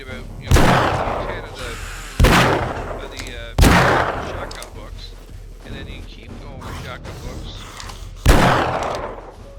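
A Magnum revolver fires in the 7 Days to Die game: four loud, booming single shots spaced a couple of seconds apart, each with a long echoing decay, over continuous game ambience.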